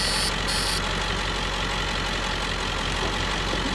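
A Jeep engine runs at a steady idle after ignition, a continuous low mechanical rumble with a constant drone and a slight knocking texture, close and loud throughout with no talking.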